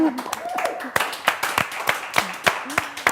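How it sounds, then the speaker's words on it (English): A small audience gives a brief round of applause for students profiled in an art academy's films, with scattered, uneven claps close by while someone keeps talking over them. "Let's have a little round of applause for all of the people you profiled."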